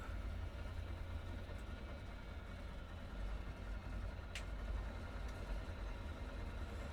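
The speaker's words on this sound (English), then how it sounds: "And we put rudder into the running engine." Ford Trimotor airplane engine running steadily as the plane taxis on water, a continuous loud low rumble with no break, close and alone.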